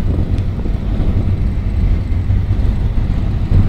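Strong wind on a rainy day over a rough, agitated sea near Bouyafar makes a constant low, buffeting roar against the microphone, loud and unbroken, with no voices.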